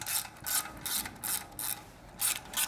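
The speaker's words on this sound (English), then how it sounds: "first thing we're going to do is loosen the muffler clamp using a 10mm socket" A ratchet with a 10mm socket loosens the muffler clamp on a Triumph motorcycle exhaust, heard as close, crisp bursts of rapid clicking repeated in short strokes, about six in quick succession.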